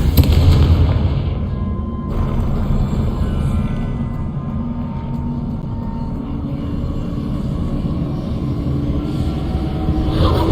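Fiery spell blasts in the Hogwarts Legacy video game: a loud booming burst at the start, then a sustained rumbling roar with crackling debris, and another rising blast near the end.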